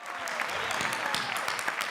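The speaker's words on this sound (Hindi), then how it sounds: "जोरदार तालियों के बीच" Studio audience at a comedy show clapping, a dense even patter of applause at moderate level with no gaps.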